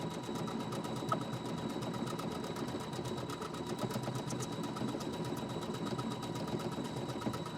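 A sewing machine runs steadily while stitching down a fabric applique on a quilted pillow, its fast, even mechanical whir continuous and close throughout, with no talking.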